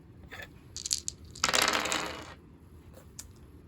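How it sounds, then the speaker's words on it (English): Five dice tumbling and clattering across a table during an Axis & Allies & Zombies board game, a scattered burst of hard plastic rattles rising to a quick cluster then settling with a few last clicks. "I'm going to be rolling 5 dice"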